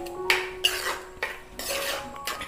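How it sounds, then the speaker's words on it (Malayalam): A spoon scrapes and clinks against a pan while half a spoon of garam masala powder is stirred in, several close, sharp metallic scrapes in quick, uneven strokes with no talking. "ഇട്ട് കൊടുക്കാം. എന്നിട്ട് ഇളക്കാം."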